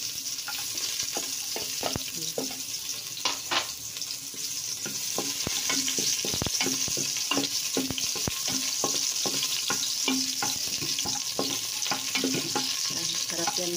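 Garlic sautés in oil in a pan for a white corn soup, giving a steady close sizzle with scattered crackles and the clink of stirring throughout, and no talk.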